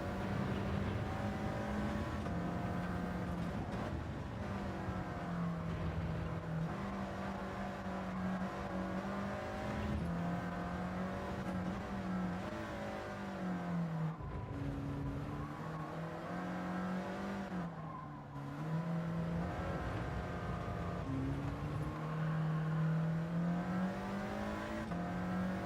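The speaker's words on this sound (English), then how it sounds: "the engine note definitely disappears into sort of dog hearing frequencies" Race car engine in a racing video game time trial, a continuous high-revving whine that rises and falls through gear changes and corners, loud and close with no talk over it.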